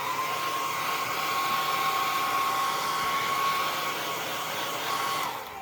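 A heat tool blows hot air in one continuous, loud, steady whirring hiss while a grid journal page is warmed, easing off only at the very end.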